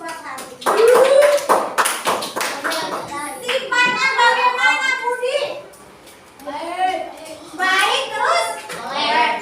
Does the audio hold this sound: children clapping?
yes